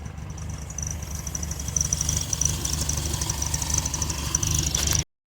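A 1970 VW Bug's air-cooled engine runs at a steady idle, a continuous low rumble with a faint high whine above it, constant throughout and ending abruptly.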